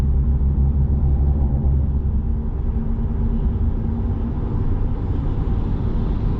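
A Ram pickup with the Hurricane engine holds around 2,000 RPM, giving a loud, steady, deep rumbling drone from inside the cab that stays even throughout.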